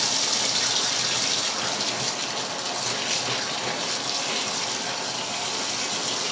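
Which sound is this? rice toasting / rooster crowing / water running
water running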